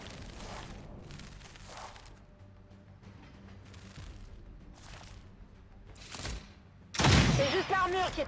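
Gunfire bursts from a squad battle in the video game XCOM 2, several sharp broadband shots spaced across the clip, with a loud heavy burst near the end over a low mechanical rumble, while voices talk underneath.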